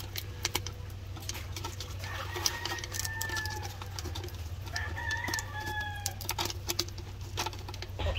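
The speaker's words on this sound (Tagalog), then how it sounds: "So ito yung mga manok natin na upgraded native chicken." Upgraded native chickens cluck and a rooster crows at a distance over a steady low hum, with scattered clicks and farmyard noise.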